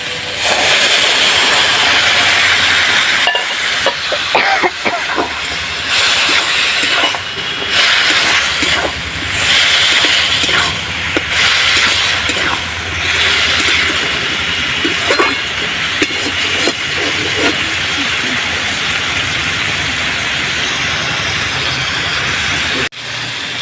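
Lentil cooking water poured into a hot pan sets off a long, steady hiss of steam that sizzles loudly up close. Bubbling crackles and small surges come and go before it fades out abruptly at the end.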